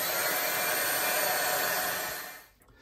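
A hair dryer blows steadily and close on an art journal page, a loud continuous whir that holds for about two seconds and then cuts off.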